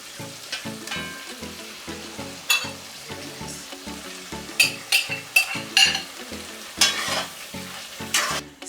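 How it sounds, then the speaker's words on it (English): Browned pork for a Jamaican brown stew stirred in a hot pot, with a spoon scraping in repeated strokes over a constant frying sizzle and louder clanks toward the middle and end. "So now I'll check in on my meat and I will give it a stir."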